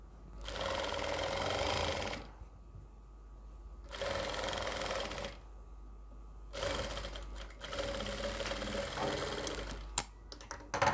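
A sewing machine stitches a palazzo skirt seam in three runs of rapid, even mechanical whirring broken by short pauses, close and moderately quiet, with small clicks near the end.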